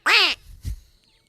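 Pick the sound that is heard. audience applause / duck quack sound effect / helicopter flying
duck quack sound effect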